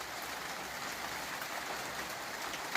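Steady rain falls on a rainy day in Salvador, Bahia, a dense, even hiss of drops on surfaces that continues without pause and without voices.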